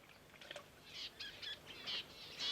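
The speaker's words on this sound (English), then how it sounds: "little budgies here, look at them, poor little things" Soft, high chirps and warbles from budgerigars in the Australian outback, faint and somewhat distant, repeating in short bursts against a quiet background.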